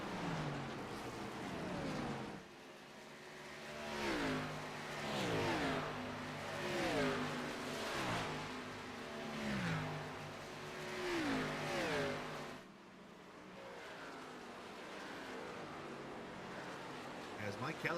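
Race car engines in an Xfinity Series stock car racing video game at Pocono rise and fall repeatedly as cars pass and accelerate, with a steady roar behind and commentary spoken throughout.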